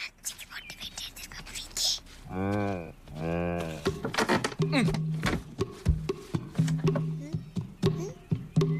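A cartoon cow lets out two drawn-out, tonal moos in a row amid animated dialogue, with speech and whispery voices around the calls and further cartoon voices continuing afterward.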